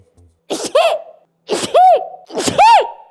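A woman suffering from allergies sneezes three times in quick succession, each a loud, close explosive burst with a sharp intake of breath before it.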